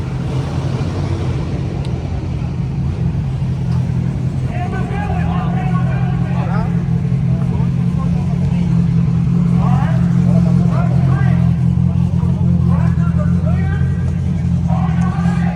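Old school Camaro drag car in the all motor class at an import versus domestic drag racing event, a loud steady engine drone with a low rumble throughout, with spectators talking and crowd noise mixed in.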